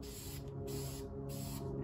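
Primer sprayed onto salvage yard car parts outdoors in the wind: a steady, close hiss broken by two short pauses, returning in sustained bursts.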